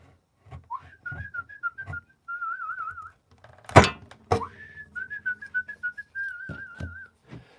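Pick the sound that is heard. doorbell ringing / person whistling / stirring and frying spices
person whistling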